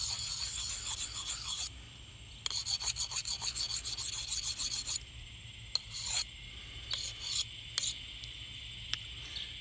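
A blade is sharpened on a Smith's two-sided sharpening stone with coarse and fine sides, giving close, quiet rasping strokes, some in quick rhythmic runs and others in isolated scrapes separated by pauses.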